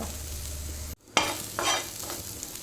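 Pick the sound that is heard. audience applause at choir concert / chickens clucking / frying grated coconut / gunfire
frying grated coconut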